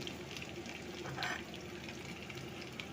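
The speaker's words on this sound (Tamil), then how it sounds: "இதில் கடுகு போட்டுண்டு கடுகு நல்லா வெடித்த உடனே வெடிச்சுருக்கு பாருங்கள்" Mustard seeds spluttering and popping in hot oil for a gooseberry pickle, a soft continuous crackle and sizzle heard close and fairly quiet, with no voices.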